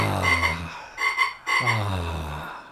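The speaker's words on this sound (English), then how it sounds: "Peaceful toads." Toads croaking close up, a loud chorus of rapid pulsed croaks overlapping in waves, with brief gaps between bursts and no voices.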